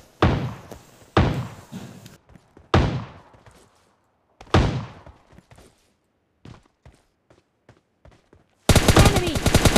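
Gunfire in the battle-royale game PUBG Lite: several loud, sharp bursts and single shots in the first half, scattered fainter pops after, then a dense rapid automatic burst at the end.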